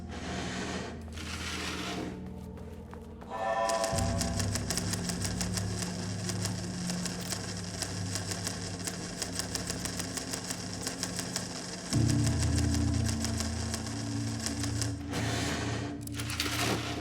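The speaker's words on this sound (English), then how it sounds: "typewriters and Cauldron Lake do not mix. And a room full of them all clacking away?" A room full of typewriters in Alan Wake II keeps up a dense, rapid, continuous clatter over a low droning hum that steps up in pitch partway through, loud and unbroken, with no voices.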